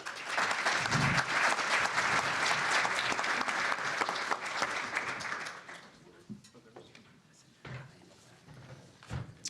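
Audience at a New Jersey principals' legislative conference panel applauds warmly as a moderator and panelists are welcomed, a steady loud clapping for about six seconds that fades out, followed by scattered thumps and handling noises.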